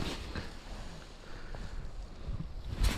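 Gusty wind sweeping across a frozen perch lake in spring snow, a broad continuous rushing roar buffeting the microphone, close and steady with a stronger gust at the end, no voices.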